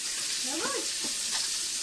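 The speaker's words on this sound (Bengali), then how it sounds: "হালকা করে মাছটা ভেজে নেবে" Fish fries lightly in a pan with a steady, close sizzle throughout, and a voice speaks briefly over it.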